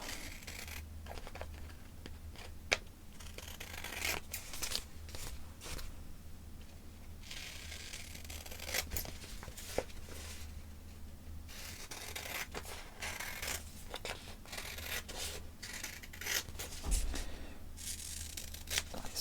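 Scissors trim a sticker pattern for a stained glass window, a steady run of soft snips and crinkling paper rustles, close up and fairly quiet, with no talking.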